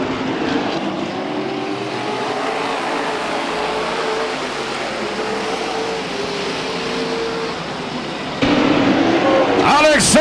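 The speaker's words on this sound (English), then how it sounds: "Sam Solari rockets out in front of the 10-car Jay Lindstrath." Race cars at speed right after the start of a 2003 race, a dense roaring engine wash passing by, with a commentator talking over it and a louder burst near the end.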